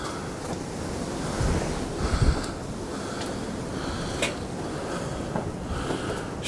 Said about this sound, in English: It is mega windy up here.